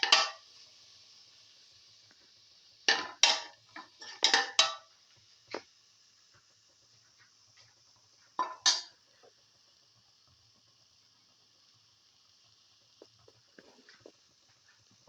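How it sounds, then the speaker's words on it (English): Sautéed potato and coconut stew stirred in a pan, heard as a few sparse scraping clanks of a utensil against the pan in short clusters, separated by long near-silent gaps. "Keep on mixing."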